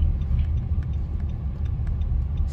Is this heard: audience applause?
no